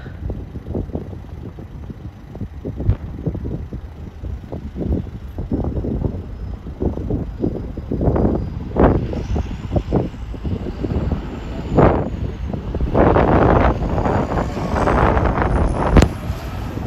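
Strong, gusty wind buffets the microphone during a storm at Mallorca airport, roaring and surging in loud bursts throughout, with a faint aircraft engine whine rising near the end.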